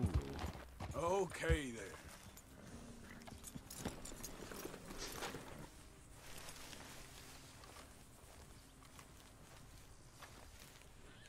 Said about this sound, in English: Study this horse. What horse is this? Kentucky Saddler.